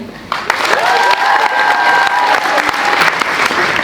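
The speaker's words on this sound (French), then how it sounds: "Applaudissez, je vous prie, bien fort les musiciens." A school theatre audience applauds the musicians after a Molière performance, with steady close clapping joined by a sustained whistle or called tone and scattered shouts over the hands.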